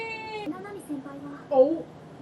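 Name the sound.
cat meowing in anime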